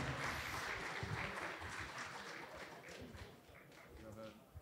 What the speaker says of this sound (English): Let's give a round of applause to Emmanuel